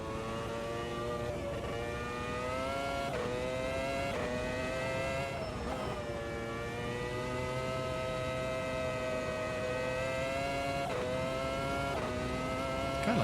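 Formula racing car engine at the Jacarepagua circuit in Automobilista 2, a steady high-pitched whine rising and falling through repeated gear shifts, loud and continuous, heard from on board.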